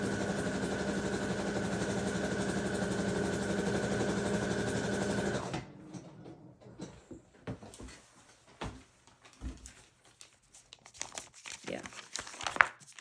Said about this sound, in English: I think I'm also going to sew down the center just real quick because that will separate those two pockets.